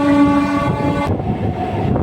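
A passenger train pulls out of Kotra railway station on the Old Delhi to Shamli line, a loud sustained horn blast at first, then rumbling wheels and carriage noise close by.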